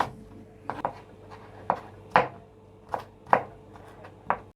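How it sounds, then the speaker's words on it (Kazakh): Knife chopping onion for pumpkin soup, a series of sharp dry cuts at irregular intervals, close and clear over faint background noise. "Осы пиязымызды майдалап турап аламыз."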